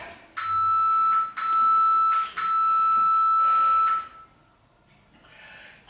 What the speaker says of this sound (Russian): Таймер стоп.